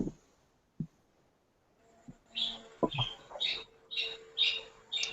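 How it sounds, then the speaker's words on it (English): Australian birds call in the background at daybreak, a run of repeated squawks and chirps that grows busier toward the end, moderately near against a quiet room with a couple of faint knocks early on. "You've got Australian birds in the background too, Sahara."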